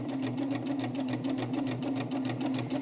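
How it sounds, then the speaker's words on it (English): Close and continuous, a sewing machine hums with a fast regular needle rhythm as it slowly stitches over a seam on a drawstring backpack, with no voices. "we're going to take it slow as that seam passes under the needle."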